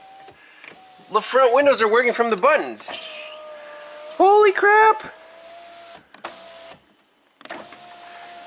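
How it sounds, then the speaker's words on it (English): Front power windows on a 2007 BMW 328Ci convertible run up and down in two whirring motor bursts with soft relay clicks, loud and close, while a person talks and exclaims between them. "The front windows are working from the buttons."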